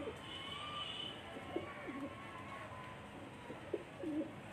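Pet pigeons of an old breed coo in a loft, several soft rolling calls repeating close by over a constant background hum.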